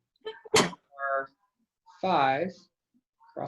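A single sharp sneeze bursts out early during a circuits help session, followed by calm talk.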